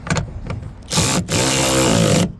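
A power tool drives a 10mm socket to tighten a bolt while refitting the rear door on a 1997-2003 Ford F150; two loud whirring bursts, the second longer, follow brief quieter clatter.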